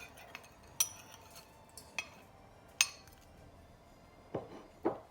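Frozen carrots, peas and corn tumble into a pan in several sharp, hard clinks and rattles, separate hits spread over a few seconds with quiet between them.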